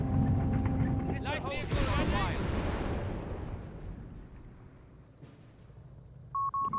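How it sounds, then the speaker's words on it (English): Mortar rounds in the World War II strategy game Company of Heroes 3 fire and land with loud, heavy booms that roll off into a long fading rumble, under faint battlefield voices, ending with a short electronic beep. "Mortar firing down death here from above"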